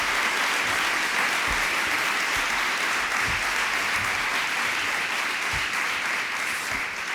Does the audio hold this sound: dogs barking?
no